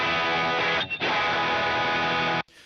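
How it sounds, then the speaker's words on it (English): A heavily distorted electric guitar chord on the neck pickup, distortion from a Boss pedal, rings out loud and sustained, briefly choked once, then cut off abruptly near the end. "let's check out what the distortion now adds"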